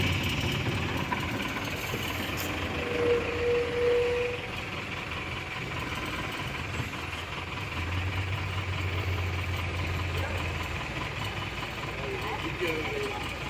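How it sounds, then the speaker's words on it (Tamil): Heavy night-time road traffic at a bridge under construction in Villupuram, with idling trucks and cars producing a low, steady engine rumble at moderate distance. Faint, muffled voices sit under it. "அதில் ஆகுது இவ்வளோ டிராஃபிக்."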